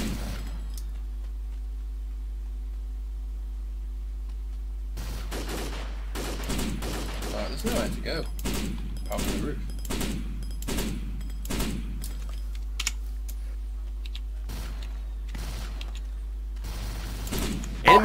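Suppressing gunfire in a video game: after a quiet opening with a low hum, a long string of evenly spaced single shots cracks out, some fairly close together, then stops for a gap before a few more shots at the end.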